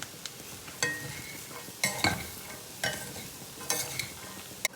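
A spoon clinks and scrapes in a pan as a carrot and turmeric curry cooks, with a soft sizzle between a handful of sharp stirring knocks spaced about a second apart.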